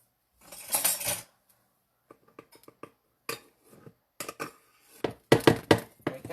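Metal utensils clink and scrape against a measuring cup while a cup of flour is scooped and leveled, giving a burst of scraping followed by scattered light taps and clicks, close and fairly quiet with no talk.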